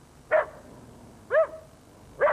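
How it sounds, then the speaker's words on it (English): A dog barks three times at a steady, evenly spaced pace, each bark sharp, loud and close, with quiet between them and no one talking. "Or maybe he's just enjoying a good bark."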